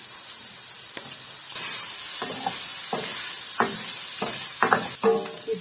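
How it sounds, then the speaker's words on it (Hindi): Canned mushrooms tossed into a hot pan for Indo-Chinese hot and sour soup, a soft steady sizzle under repeated scraping stirs, with no talking. "तो सबसे पहले मैं मशरूम डाल दे रही हूँ"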